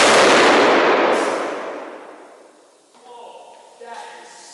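Rapid gunfire bursts loudly at the start, then rings out and decays over a couple of seconds, followed by faint excited voices and a second smaller burst of sound.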